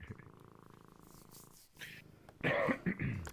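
A cat purrs close by in a soft, steady rumble, followed near the end by a few louder, abrupt sounds.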